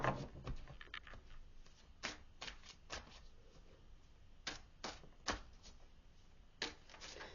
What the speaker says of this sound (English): I need to pull some more cards here